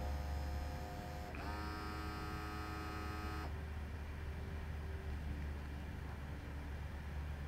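A portable FDM 6000 fuel dilution meter purges its inlet as a faint, steady electrical hum. A thin whining tone rises for a couple of seconds, then fades back into the low background drone.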